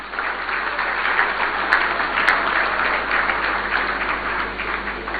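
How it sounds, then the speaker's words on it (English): Big round of applause from an audience at a birthday tribute during a formal event in Ghana, a dense, even roar of clapping that holds steady throughout with no voices over it. "Help me wish him a happy birthday with a big round of applause."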